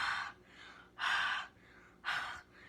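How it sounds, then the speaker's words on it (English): Heavy breaths blown onto the rubber face of an ink stamp, three close, breathy exhalations in an even rhythm, alone and fairly soft. "So pardon the heavy breathing for a moment."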